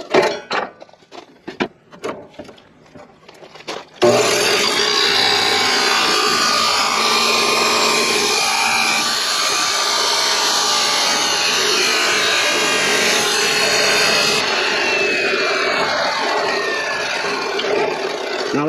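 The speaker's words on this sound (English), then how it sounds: "So far I'm really impressed with this chop saw, cutoff saw, chop saw, whatever you want to call it." A chop saw fitted with a DeWalt blade cuts steel for a trailer jack repair, starting with a few sharp knocks and clatter before a loud, sustained grinding screech that runs steadily to the end, close and dominant.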